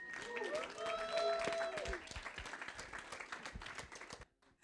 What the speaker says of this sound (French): Est-ce qu'on peut encore les acclamer?